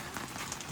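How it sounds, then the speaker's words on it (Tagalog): Steady rain falling on a campsite during a typhoon, a dense, even patter of drops on surfaces that continues without a break for the whole short stretch. "Walang tigil yung ulan, grabe."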